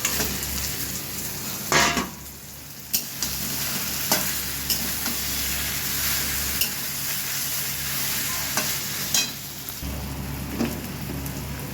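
Fried fish head goes into a sizzling pot for Bengali murighonto with gobindobhog rice and gets stirred, giving steady close frying hiss broken by sharp scrapes and clunks of the utensil against the pot.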